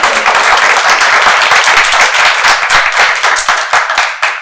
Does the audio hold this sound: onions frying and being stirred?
no